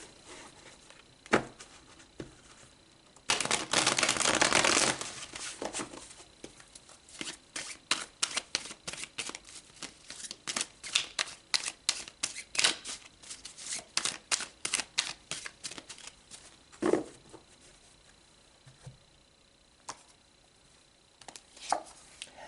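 A deck of tarot cards is shuffled up close: a dense, papery burst of riffling, then a long run of quick, crisp card snaps and taps at an uneven pace, with no one talking.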